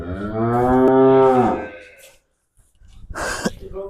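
A loud, drawn-out water buffalo moo, deep and close, on a farm in Punjab, fades into a short pause before a snorting, sneeze-like exhale and some rustling.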